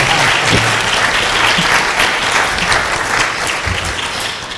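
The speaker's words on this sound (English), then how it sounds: "That was a signal to clap." Conference audience applauding on cue, a close, dense burst of clapping that stays loud for several seconds and then begins to taper, with a few low thumps underneath.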